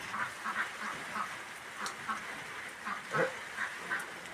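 Scattered duck quacks, a few at a time, some nearer and louder than others, over a soft hiss of background noise during light rain.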